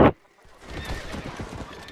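A horse rears in the Red Dead Redemption video game, letting out a short, loud whinny followed by softer clopping hoofbeats.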